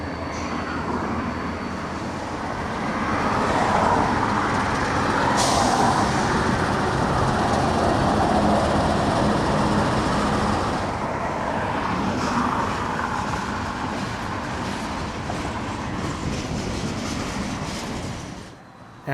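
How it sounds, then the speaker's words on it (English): EMD switcher locomotives back onto a siding at Avon Yard west of Indianapolis, a loud, steady rumbling drone of diesel engines and rolling cars that fades near the end, with no talk. "the switchers finally are able to back onto that siding"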